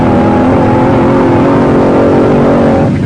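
The 'Chiseler' dragster engine roars loud and sustained on a circa-1956 quarter-mile drag strip tune-up run, revving continuously at close range and filling the whole stretch.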